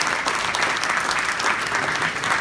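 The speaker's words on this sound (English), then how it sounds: "Another round of applause." An audience claps steadily after a speech on leadership, a dense, even wash of applause that holds loud throughout with no voices rising above it.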